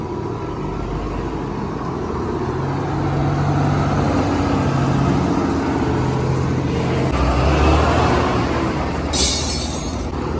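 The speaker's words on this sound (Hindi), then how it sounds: "देखो जनाब रठोआ हरियाम ब्रिज पर कितना ज़्यादा रश है, कितनी ट्रैफिक चली रही है, हैवी ट्रैफिक जी है" Heavy traffic rolls across the Rathoa Haryam bridge in Mirpur, Azad Kashmir, as a steady, loud roar of passing vehicles that swells midway, with a brief hiss near the end.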